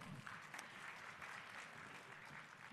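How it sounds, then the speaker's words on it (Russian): An audience at a talk on territory branding and tourism applauds steadily, with even, moderately distant clapping throughout. "Аплодисменты."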